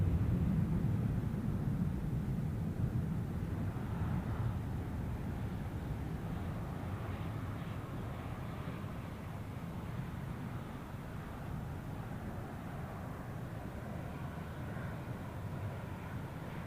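A fixed-wing airliner takes off from Zurich Airport, a broad, distant jet roar that starts loudest and slowly fades as the aircraft climbs away, steady and unbroken with no voices.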